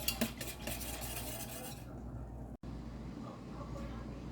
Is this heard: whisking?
yes